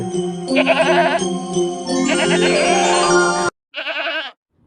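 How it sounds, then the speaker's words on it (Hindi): A goat bleats loudly in long, wavering cries, close up, followed by a brief silence and one shorter bleat. "यह तो बकरी के चिल्लाने की आवाज है"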